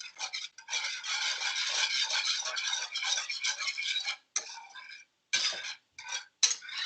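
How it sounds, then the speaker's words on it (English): Eggs and butter are whisked in a pan, a rapid, continuous metallic ticking of the whisk against the pan that runs steadily, then breaks into short stop-start bursts toward the end. "And so I use my whisk here."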